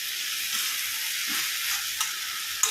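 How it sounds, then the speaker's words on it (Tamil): Grated coconut sautéing in a pan for murungai keerai thuvaiyal: a steady, bright sizzle with occasional stirring scrapes, close and fairly loud, no talking. "வதங்கினதுக்கப்புறமா தேங்காய் துருவல் கொஞ்சம் போட்டு வதக்கிக்கலாம்"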